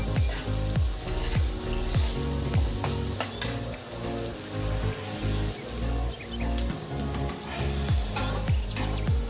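Onions frying in a pan with carrots and beans for pulao, a steady close sizzle with repeated stirring scrapes and clinks running throughout, no voices.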